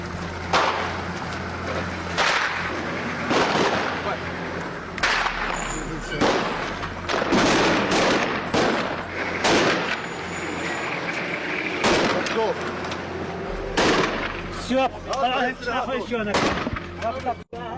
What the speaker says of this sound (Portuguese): Ao entrar no vilarejo, a tropa curda é recebida a tiros.